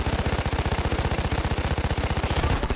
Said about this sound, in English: I'm gonna shoot a bunch.